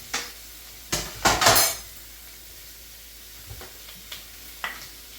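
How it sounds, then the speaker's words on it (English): Onions tipped into a hot pan with oil for a dakgalbi stir-fry, a couple of sharp clattering bursts of metal and utensils close by, followed by a faint low sizzle and a few light clinks. "we're gonna go ahead and put the onions in"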